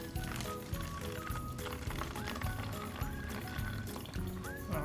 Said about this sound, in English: So we're going to pour this half a cup in.